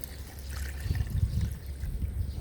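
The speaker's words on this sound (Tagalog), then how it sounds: "lalagay ko na yung tubig" Water pours steadily into a biryani pot set over a woodfire, a close, continuous splashing trickle lasting a couple of seconds.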